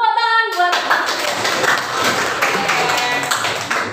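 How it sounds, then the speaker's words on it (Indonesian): Children in a classroom lesson break into a burst of hand clapping right after a short tone, a brisk, close round of applause that continues steadily with some voices mixed in. "Tepuk tangan buat."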